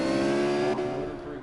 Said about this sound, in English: rev banging over there